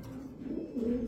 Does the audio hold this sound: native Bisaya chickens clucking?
no